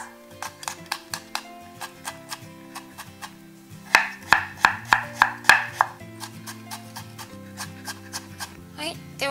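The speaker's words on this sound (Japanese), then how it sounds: "生姜とニンニクはみじん切りにしていきます。" Ginger and garlic minced with a knife for a spring bean keema curry, crisp regular knife taps on a cutting board at a quick, even rhythm, louder in a mid-section burst, with background music underneath.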